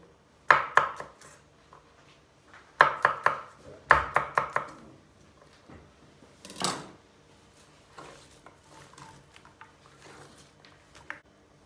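Garlic cloves being chopped on a board with a knife, three quick bursts of sharp close knife strikes, then a louder scrape and scattered lighter taps.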